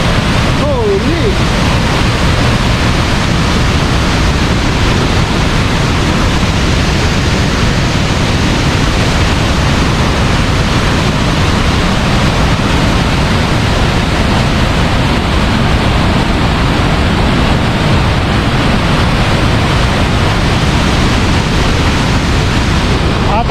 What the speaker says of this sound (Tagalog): Athabasca Falls.